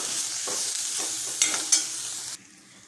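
Sautéed bitter gourd is stirred into a masala in a pan, making a light sizzle with scraping stirs and two small clacks before it cuts to near quiet; no voices.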